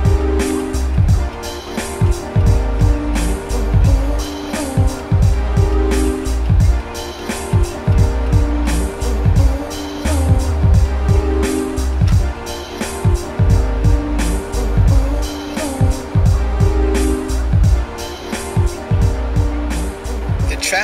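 Car traffic on a busy road, with vehicles rumbling and swishing past in repeated loud waves over a continuous low engine drone, close by for the whole stretch.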